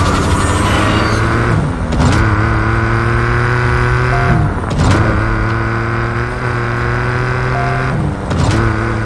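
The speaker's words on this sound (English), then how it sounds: "drag race and acceleration contest against other racers" A car engine in a Need for Speed Nitro drag race, loud and close, revving up through the gears, its steady droning pitch climbing and then dropping sharply at each of several gear changes, with no talk over it.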